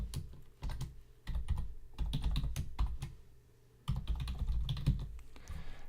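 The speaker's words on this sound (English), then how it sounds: "so I'll just go ahead and type it out and then I'll explain it" Rapid keystrokes clatter on a computer keyboard in bursts separated by short pauses, close and fairly quiet, while code is typed out for a programming session, with no talking.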